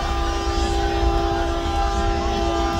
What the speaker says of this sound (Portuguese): Olha aí esse caminhão aí buzinando, pessoal. A buzina muito alta.